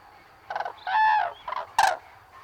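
A common crane calls in a series of loud, harsh trumpeting notes, several bursts separated by short pauses, close and clear against a quiet background.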